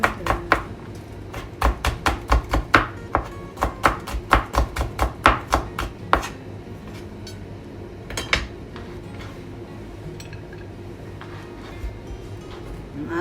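Garlic, three cloves' worth, chopped with a knife on a cutting board in a home kitchen: a quick run of sharp, evenly spaced taps, then a few scattered knocks before it stops.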